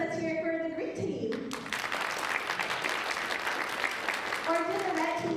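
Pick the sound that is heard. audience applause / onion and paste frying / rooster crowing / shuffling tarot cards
audience applause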